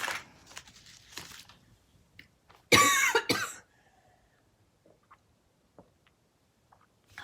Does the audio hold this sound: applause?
no